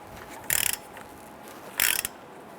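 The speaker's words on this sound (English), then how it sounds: "Using our 18mm socket with an extension, let's go ahead and loosen and remove our caliper bracket bolts." A ratchet with an 18mm socket and extension loosens the caliper bracket bolts on a 2005-2010 Chrysler 300's rear brakes, two quick bursts of sharp, close clicking separated by a short pause.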